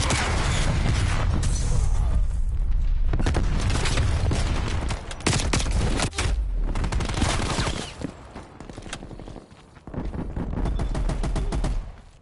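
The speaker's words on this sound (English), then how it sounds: "Artillery inbound." Artillery strikes pound a Call of Duty Cold War match in a dense, loud barrage of overlapping blasts and rapid gunfire, nearly continuous throughout with brief dips in intensity.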